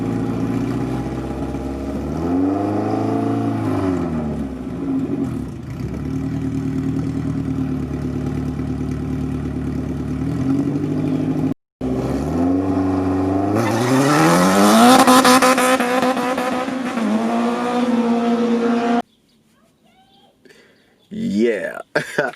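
Toyota Supra (2020, Pure Turbos) and a Honda drag racing: loud engines rev and accelerate hard with rising pitch sweeps, one car pulling through gears, a brief cut and then quiet near the end with a short return of noise.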